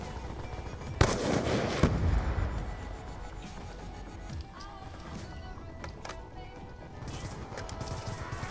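Gunfire punches through a wall in a shooter video game, a loud burst near the start followed by scattered shots and impacts over a busy game soundscape.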